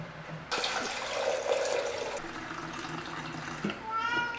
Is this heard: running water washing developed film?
yes